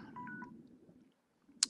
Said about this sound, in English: that is the alarm to tell me that 20 minutes is up